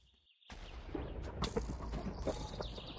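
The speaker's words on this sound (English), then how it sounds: "I'm trying not to hurt the horses." Horses in a multiplayer survival video game, with brief clip-clop and animal noises over a busy game soundscape of clicks and movement; no speech.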